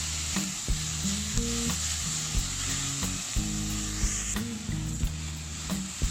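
Minced pork stir-fried in a nearly oil-free pan, sizzling steadily throughout with repeated scraping and clacking of the spatula against the pan.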